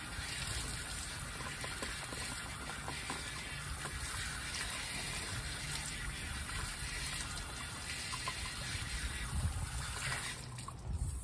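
Water from a tap runs over a sanggumay orchid plant to wash off black ants, a steady trickling and gushing spray that continues unbroken for several seconds.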